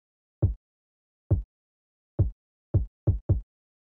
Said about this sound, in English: It's just kind of like a nice punchy,